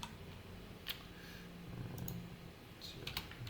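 A computer keyboard is typed on in scattered bursts of soft clicks over a steady background hiss, close and fairly quiet, with no voice.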